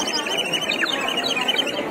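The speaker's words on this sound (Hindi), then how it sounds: "इसमें ना पानी डालने के बाद ना चिड़िया वाला साउंड आता है" A small water-filled bird whistle toy at a trade fair warbles in a steady run of high, trilling chirps, fairly close and continuous, with faint crowd murmur beneath.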